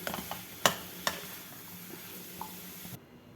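Salted green pea masala stirred in a pan, a soft scraping with two sharp clicks of the spoon against the metal early on, then a low steady sizzle that cuts off near the end.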